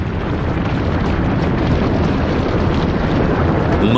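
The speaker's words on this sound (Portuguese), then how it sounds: "E então, no dia 24 de agosto, no ano 79 d.C., ele explodiu." Vesuvius erupting, a continuous loud roaring rumble of explosion and blast noise, dense and unbroken throughout with wind-like turbulence and no clear pauses.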